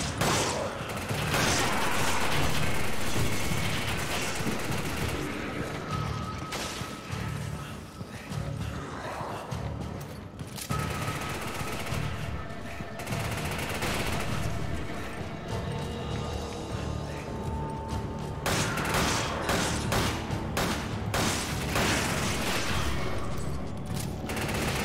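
Repeated gunfire while shooting enemies in Resident Evil 5, rapid bursts and single shots cracking in clusters over about twenty-five seconds, loud and close with mechanical clatter between volleys.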